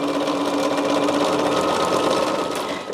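A sewing machine stitches a quilt block for an Ohio Star basket sampler, running continuously with a steady buzzing hum and rapid needle rhythm throughout, close and fairly loud with no talking.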